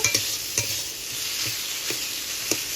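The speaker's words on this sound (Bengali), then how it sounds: "লবণ পরিমাণ মতো হলুদ পরিমাণ মতো এটা খুব ভালো করে ভেজে নেব" Steady frying sizzle fills the pan as food cooks with salt and turmeric for a prawn and pointed gourd dolma, with spatula stirs and scrapes ticking through at close range.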